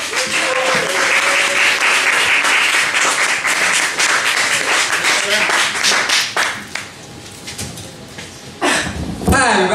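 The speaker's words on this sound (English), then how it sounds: "Give him a big round of applause for Joshua Saucier." A comedy night crowd at McCormack's gives a comedian loud, sustained applause that fades after several seconds, followed by a few louder claps and some voices.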